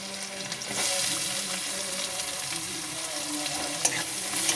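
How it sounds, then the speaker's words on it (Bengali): Garlic and chopped onion sizzle and fry steadily in a pan with oil, a close, continuous crackling hiss with occasional stirring scrapes and no talking. "রসুনগুলো একটু নাড়াচাড়া করে নিয়ে এবার দিয়ে দেব পেঁয়াজ কুচি"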